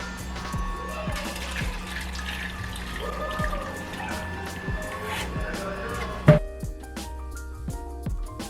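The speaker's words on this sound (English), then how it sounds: "You're gonna add more water." Water is poured through a strainer into a cooking pot while red chilaquiles are made in a home kitchen, giving a running trickle and splash with clinks, a sharp knock, and a voice over it.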